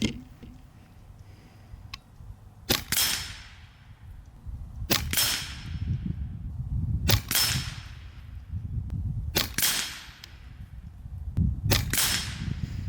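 Karma Airguns SLS .22 PCP air rifle firing AEA pellets, five sharp, close shots spaced roughly two seconds apart, each a crisp crack with a short ring, over a faint background hum and no talking.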